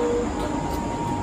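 A passenger train runs with a steady, loud rumble and a constant droning hum, and the noise fills the whole moment without pause.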